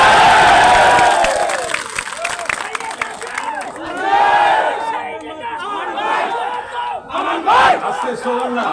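A large political rally crowd chants slogans in loud, rhythmic unison, the roar swelling and dipping in waves, with scattered shouts and chatter among the voices.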